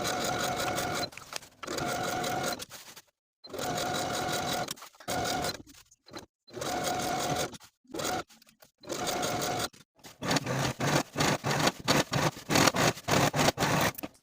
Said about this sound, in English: Sew the waistband to the pant all the way around with a 5/8 inch seam allowance using a stretch stitch